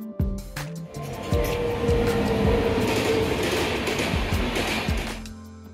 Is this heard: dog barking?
no